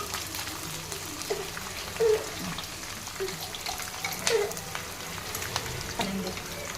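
A paste of ginger, coconut, garlic and green chilies fries in a pan for an eggplant dish, a moderate continuous sizzle with occasional stirring clicks and scrapes.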